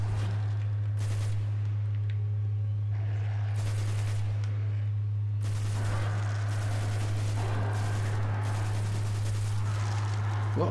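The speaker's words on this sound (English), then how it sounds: "A lot more recoil on this assault rifle than I remember." Bursts of auto rifle fire crackle in the Destiny video game, loud volleys starting and stopping over a constant low hum, with heavier sustained shooting in the second half.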